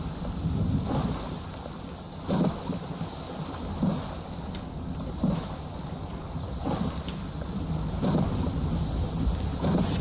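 A storm in the survival game Stranded Deep brings steady rain and wind with several low thunder rumbles rolling in at intervals, no talk over it.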